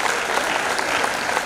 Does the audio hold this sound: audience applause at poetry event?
yes